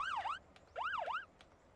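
A vehicle siren in the driving game Motor Town: Behind the Wheel wails in two rising-and-falling sweeps, fairly close and clear, with a short gap between bursts.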